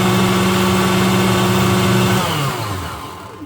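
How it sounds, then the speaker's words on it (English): A food processor chops vegetables for Chinese pot sticker dumpling filling, its loud, steady motor whine running continuously before winding down at the end. "I'm going to stop the video so I don't blast you out with a food processor"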